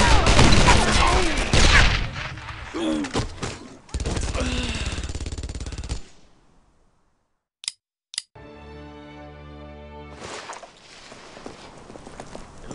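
Gunfire in the World War II shooter Brothers in Arms: Earned in Blood: dense bursts of rapid shots in the opening seconds, then a couple of isolated sharp cracks, and another noisy burst near the end.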